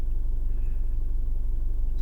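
Isuzu MU-X turbo diesel engine idling up close, a steady low rumble with an even pulsing throb that holds for the whole stretch, no voices over it.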